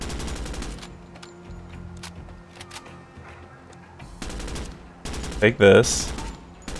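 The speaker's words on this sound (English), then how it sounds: "He's shooting through the window!" Gunfire in the tactical shooter Door Kickers 2: loud bursts of shots crackle at the start and again near the end, with a heavy volley toward the close, separated by quieter game ambience and a brief spoken line.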